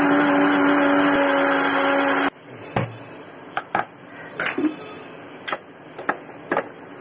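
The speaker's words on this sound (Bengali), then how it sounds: "এখন আমি এটা ব্লেন্ড করে নিই। আমি ব্লেন্ড করে নিচ্ছি।" An electric kitchen blender whirs loudly and steadily while blending rice flour batter for chhita pitha, then cuts off abruptly partway through, followed by scattered clicks and light knocks.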